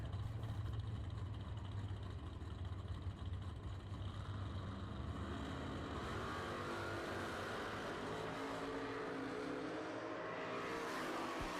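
Two drag race cars launch side by side, a Lumina against a 1985 Camaro, their engines building from a deep rumble into a loud rising roar that climbs in pitch as they pull away, with no talking.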